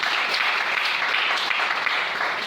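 Church congregation applauding during a service, dense sustained clapping from many hands, loud and close, steady throughout and tapering slightly at the end.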